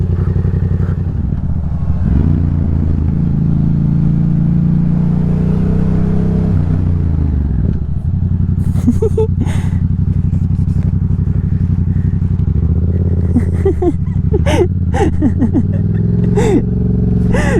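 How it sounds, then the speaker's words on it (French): A Yamaha MT-07 motorcycle engine idles and revs nearby, its low throbbing drone shifting pitch, with occasional clatter and brief rattles toward the end. "Ça serait bien qu'on puisse bien entendre la moto."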